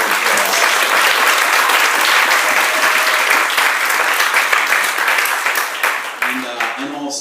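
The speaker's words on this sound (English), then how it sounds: "Let's give another round of applause." Indoor audience applauding loudly and steadily at a songwriter showcase, a dense wash of hand claps that runs throughout and starts to thin out toward the end.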